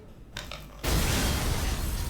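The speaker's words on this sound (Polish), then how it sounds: "pamiętałem ten wybuch, dlatego się nie przestraszyłem widzu" An explosion in the video game Resident Evil 7 bursts in abruptly after a quieter stretch of mechanical creaks and clicks, then a loud, broad rumble holds steady to the end.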